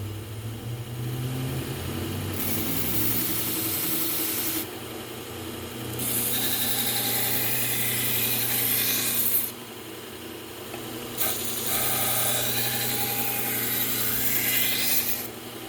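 A belt grinder fitted with a Cubitron P120 belt sharpens a badly chipped knife. Three sustained passes of abrasive grinding rise over a constant motor hum, with short quieter breaks between them.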